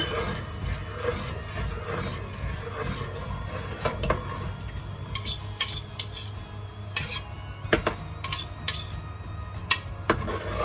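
Custard stirred in a pot with a spoon, continuous scraping and rubbing against the pot with sharp metallic clicks at irregular intervals over a low steady hum.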